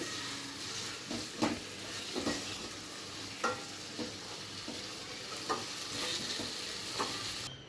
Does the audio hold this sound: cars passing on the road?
no